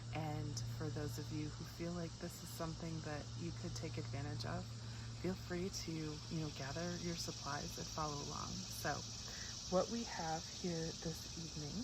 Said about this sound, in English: you can hear the cicadas really in the background quite a bit.